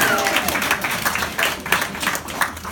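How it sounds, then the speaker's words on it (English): At a ninth anniversary event, a crowd applauds for Julie with close, fairly loud clapping in uneven bursts that carries through the whole moment. "good round of applause for Julie"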